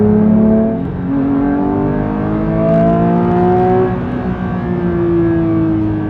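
A manual Porsche GT3's engine revs hard toward 9000 RPM, heard loud and close. Its tone climbs and sweeps through the gears as a continuous wail, with no voices.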